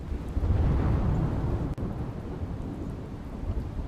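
A heavy monsoon downpour in Gujarat, with two inches falling in two hours, roars as a loud, steady wash of rain under deep, rolling thunder that carries on throughout.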